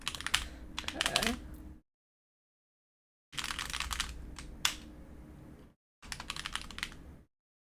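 Computer keyboard typing comes in three bursts of rapid, close clicking keystrokes separated by dead silence, with a sharper key strike standing out in the middle burst.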